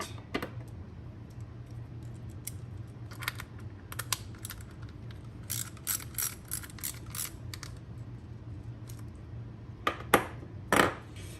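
Ratchet with a 1/2 inch socket torquing a bolt on a Buell XB fuel pump, quiet scattered clicks and short bursts of ratcheting close by over a steady low hum.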